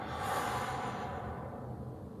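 Slow, deep exhale during a qigong loosening exercise, a soft, steady breath that fades gradually, close and quiet, with no talking.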